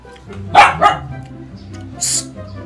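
A dog barks twice in quick succession close by, followed by a short high yip, with faint voices in the background.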